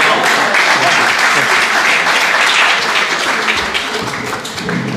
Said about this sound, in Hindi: आपकी भरपूर तालियां कामरान ज़ुबैर कामी साहब के लिए।